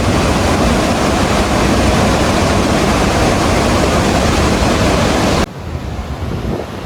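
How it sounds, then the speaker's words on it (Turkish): Loud, steady roar of the Laksforsen waterfall's rushing water in northern Norway fills the scene, a dense constant wash that suddenly drops lower near the end. "Lekborsun şelalesinde suyun aktığı yere geldik"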